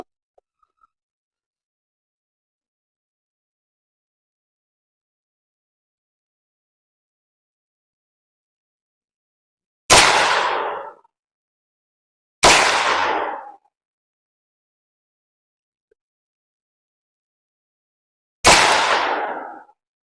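Three sharp AR9 rifle shots at a shooting range with AAC 124 grain ammunition, a muzzle device fitted, each a loud close crack with a short decaying tail, spaced a few seconds apart after a long silence.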